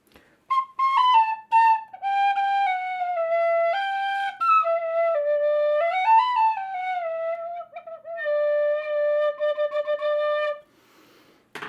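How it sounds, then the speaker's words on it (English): A tin whistle plays a slow, clear melody of held notes that slide and step between pitches, with brief pauses between phrases, up close and alone. "that was absolutely loads of tin whistle"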